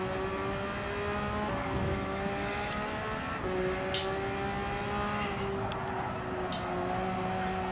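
A race car engine in a racing video game revs at high RPM and holds a steady, loud, sustained whine that shifts pitch a few times, with no talking.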